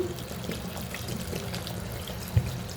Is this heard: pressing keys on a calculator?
no